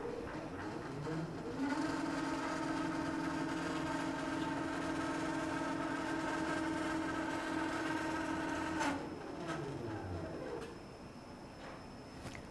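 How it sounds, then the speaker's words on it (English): A computerized quilting machine traverses sideways to the left, a steady motorized whir and hum with a sustained tonal drone that holds for several seconds, then winds down and stops, leaving lower background noise. "then the machine will move itself over to the left side"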